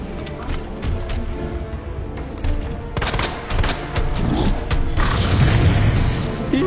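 Gunfire in a zombie shooter video game, rapid bursts and shots with mechanical clicks and booms, steady and loud throughout with faint voice underneath.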